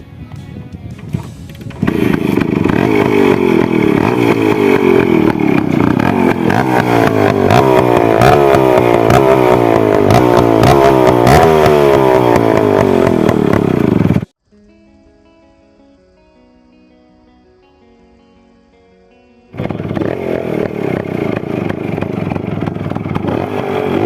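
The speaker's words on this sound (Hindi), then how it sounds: "जब एग्जॉस्ट का साउंड सुनाते हैं" Loud, raspy revving from a custom-modified motorcycle exhaust, rising and falling in repeated throttle blips, then cutting off into a quieter idle pause before the roar returns.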